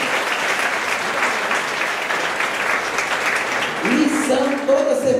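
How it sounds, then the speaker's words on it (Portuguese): A church congregation applauds steadily in a dense, continuous wash of clapping, with a voice starting to speak over it near the end. "Aplaudam eles"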